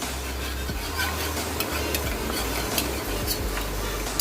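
A spoon stirs salt and turmeric into water in a small vessel, giving soft scrapes and light clinks over a constant background hiss, close and fairly quiet.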